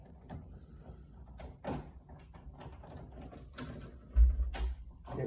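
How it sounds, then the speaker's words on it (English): A small tool probes the hole in a privacy lock on a bed and bath door, making quiet scattered clicks and scrapes, then a louder metallic clunk near the end as the lock releases. "So that little tool goes in that hole. If I find the right spot,"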